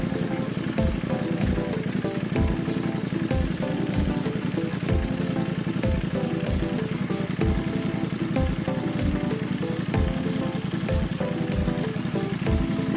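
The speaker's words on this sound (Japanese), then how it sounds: "エンジンを始動させて" A Honda Magna 250 motorcycle engine idles steadily after an oil change, a continuous low rumble with regular pulsing beats close by, running alone without talk.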